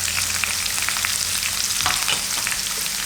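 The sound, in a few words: onion and sliced green chillies frying for upma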